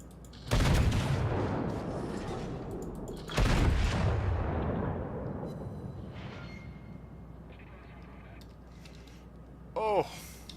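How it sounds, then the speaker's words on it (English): Warship main guns firing HE shells in the naval combat game World of Warships: two heavy, booming salvos a few seconds apart, each fading into a long rumbling tail, with a short game alert chime near the end. "And it looks like he's firing HE because reasons."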